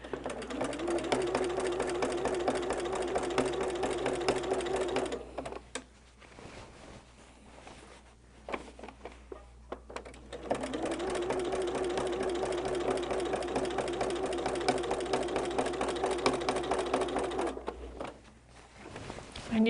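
A sewing machine stitches candy stripe fabric for a holiday quilt, running in two long steady whirring bursts of rapid needle strikes, separated by a pause filled with quieter handling clicks.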